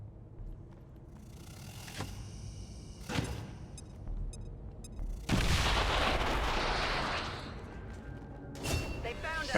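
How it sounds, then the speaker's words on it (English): A grenade blast in XCOM 2 erupts as a loud, sustained roar of explosion and debris, preceded by sharp in-game impacts and set against background game sound. "Grenade!"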